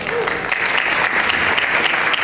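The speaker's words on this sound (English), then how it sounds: "Please give the Hamtramck High School Band a round of applause." A room full of people claps for the Hamtramck High School Band at a 2018 MLK breakfast, a brief, even burst of dense, lively applause heard up close.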